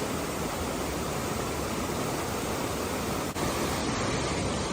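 A loud mountain stream rushes in a continuous broadband roar on New Zealand's Te Araroa trail near Waiau Pass, close and steady with no break, drowning out everything else.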